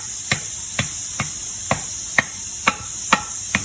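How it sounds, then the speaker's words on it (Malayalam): Potatoes are pounded and mashed in a hotel kitchen, giving a steady series of about eight sharp, close thuds at an even rhythm over a faint background hiss. "ഉരുളക്കിഴങ്ങ് നല്ലോണം ചതിച്ച് നല്ലോണം മിക്സ് ചെയ്യണ രംഗമാണ് ഈ കാണുന്നത്"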